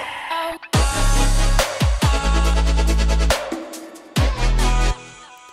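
Reverb riser transition built in Bitwig, its Valhalla Room decay modulated ahead of a drop, in a musical context: loud pulsing bass and bright synth chords swell and cut off in repeated bursts, with no talking.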